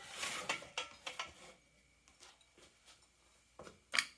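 Torque wrench ratcheting on the stepped pulley of a Predator 212 engine while the flywheel is torqued down, a run of quiet, close clicks and short ratchet strokes followed by a sharper final click.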